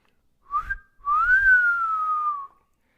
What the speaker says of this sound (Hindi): लड़के ने सीटी बजाई।